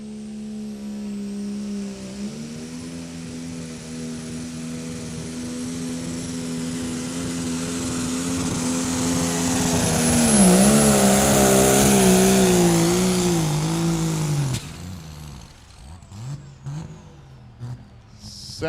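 Allis-Chalmers 185 pulling tractor named Whiskey Throttle making a run at a county fair tractor pull, its engine droning hard and building in pitch and loudness, then cutting off abruptly near the end with some sputtering.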